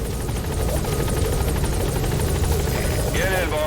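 The Pequod helicopter in Metal Gear Solid V arrives with a loud, steady rotor thrum and whine, close and continuous, with a voice under it.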